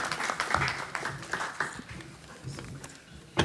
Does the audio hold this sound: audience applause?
yes